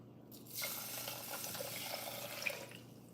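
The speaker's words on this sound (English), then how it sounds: "we're gonna put 2 cups of water, and we're gonna clean our rice" Water runs and splashes into a pot as rice is rinsed, a soft steady rushing with small swishes, close and fairly quiet.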